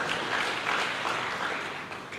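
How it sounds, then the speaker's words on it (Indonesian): A church congregation applauds during a sermon, a steady, dense wash of clapping that holds at an even level throughout without any voices over it. "Mereka tepuk tangan ya, mereka betul."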